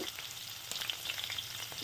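Continuous crackling sizzle of green chillies frying in hot oil, fairly soft and even throughout, with light spatters.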